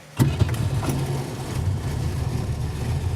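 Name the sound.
1967 Dodge Dart engine starting and idling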